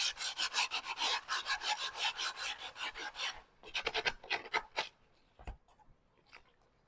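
Wood being sanded by hand with 120 grit sandpaper: a steady run of rhythmic rasping strokes, close and fairly loud, then a few sparser, lighter strokes trailing off toward quiet.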